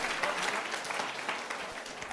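Applause from a seated crowd of students at a live memory training session in a wedding hall, a dense, even patter of many hands clapping close by for the whole stretch.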